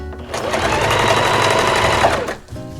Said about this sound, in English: The nice thing about a zigzag stitch is it stretches, so that way it won't rip whenever you're pulling it really tight.